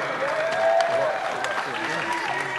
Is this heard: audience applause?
yes